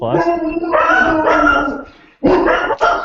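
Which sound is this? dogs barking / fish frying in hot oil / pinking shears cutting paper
dogs barking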